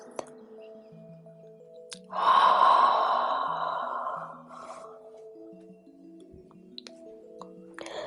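A deep, forceful exhalation during a guided yoga breathing exercise at a desk, one long breath out that swells suddenly and fades over about two seconds against a quiet room with a soft background tone.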